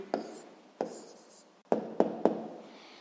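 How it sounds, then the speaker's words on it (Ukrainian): A pen writes down the answer to a sixth-grade maths problem, heard as five short, sharp strokes and taps on paper, close and fairly quiet, spaced unevenly with brief scratchy tails. "записуємо відповідь"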